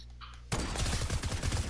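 Sudden rapid gunfire in a gun game match kicks in after a quiet half second, a dense, loud burst of close shots continuing to the end.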